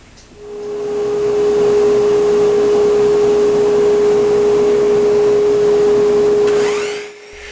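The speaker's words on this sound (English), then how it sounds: "You can hear the cutoff getting sucked into the dust collector." A dust collector roars steadily as it sucks away a woodworking offcut, a loud sustained whine with a strong steady tone that spins up at the start and winds down near the end, no voices.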